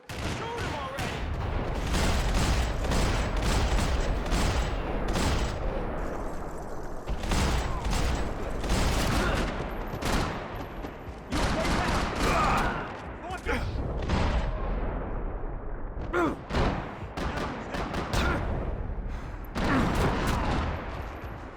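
Sustained heavy gunfire from Max Payne 3 hammers away in long, dense volleys of rapid shots with booming hits, nearly continuous for over twenty seconds, while voices shout between and under the barrage.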